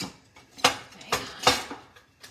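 Fajita vegetable mix tipped into a skillet with a little olive oil, heard as three or four sharp clattering bursts of food and utensil hitting the pan, spaced about half a second apart, with quiet room tone in between.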